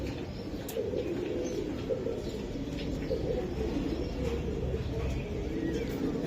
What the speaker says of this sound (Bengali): এটা বেজি কবুতর ভাই বেজি ভাই দর্শক বেজি কবুতর